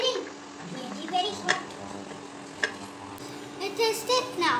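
A thick taco filling mixture bubbles and sizzles steadily in a hot pan, with intermittent stirring scrapes and light clinks, close up and fairly quiet throughout the short stretch.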